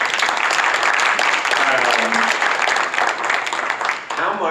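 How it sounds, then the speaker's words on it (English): Audience applause at a pancreatic cancer event, full and continuous through most of the stretch, with brief voices rising underneath near the end. "I think we should applaud for that."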